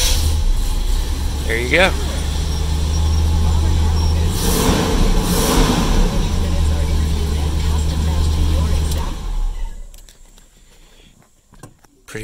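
After a couple of gas pumps, an engine idles with a rough, low rumble, gets revved a couple of times mid-way, then cuts off, leaving near silence with a few short clicks while someone speaks briefly.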